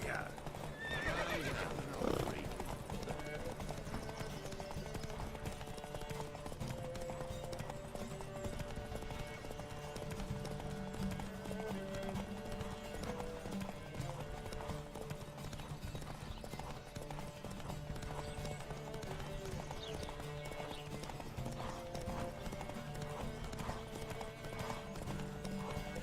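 Horses galloping in a race in The Witcher 3, rapid continuous hoofbeats with neighs and whinnies over a dense layer of game music and ambience; voices call out during the ride.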